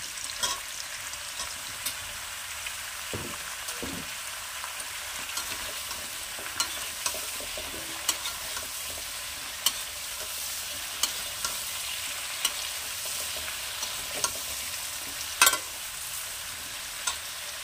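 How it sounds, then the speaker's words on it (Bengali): Chopped eggplant fries quietly in a pan with a soft, continuous sizzle, broken by occasional sharp clicks and scrapes as it is stirred. "কিছুটা ভাজা হয়েছে, এবারে আমি দিয়ে দেবো বেগুনগুলো, কেটে রাখা বেগুনগুলো।"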